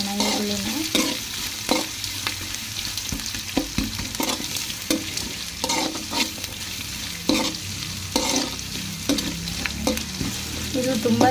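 Onions fry in a pan at home, a continuous close sizzle broken by repeated scraping and stirring strokes of a spatula at an uneven rhythm.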